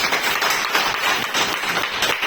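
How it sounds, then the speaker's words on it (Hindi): A large audience claps loudly and steadily, a dense, continuous wash of applause that stays close and full for the whole stretch with no voices standing out. "आप अपने लिए एक बार जोरदार ताली बजा लीजिए।"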